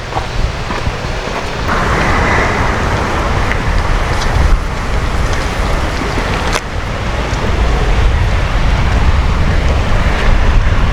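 Water rushes steadily over a bridge weir, a dense, constant roar with a slight swell in intensity partway through, loud and unbroken.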